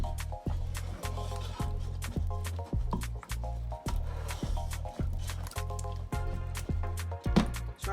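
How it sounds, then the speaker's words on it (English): Peanut butter stew with chili and salt being stirred in a pot, a thick, wet squelching repeated in a regular rhythm about twice a second, close and steady throughout. "give all of this a stir"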